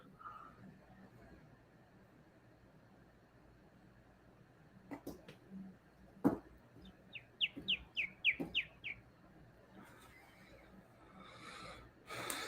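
A person imitates a little bird chirping during an office cold-calling session: a quick string of soft, high whistled chirps rises over a quiet room with breathing and small knocks, ending in faint hiss.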